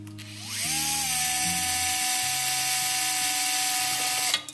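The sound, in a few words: drilling a wiring chase in a model kit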